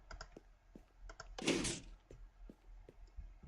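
A Minecraft piston door built from six pistons swings open with a sharp hissing whoosh in the middle, set among light scattered clicks and ticks.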